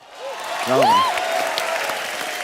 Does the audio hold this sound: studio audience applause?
yes